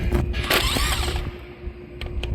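A ratchet loosens the 7mm screws on the main fuse box connector of a 2019-or-newer Chevy Silverado or GMC Sierra truck, giving close, quiet mechanical clicking and creaking over a few seconds.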